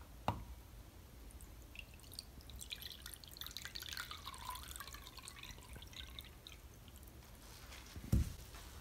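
Water poured into a bowl holding a coin makes a faint, soft splashing trickle that swells in the middle and tapers off, ending with a sharp knock near the end.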